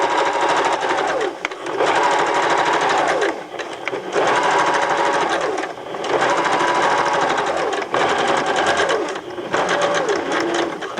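A sewing machine stitches a side seam in loud, rapid mechanical runs, stopping briefly between bursts, with the steady needle chatter close by and no speech.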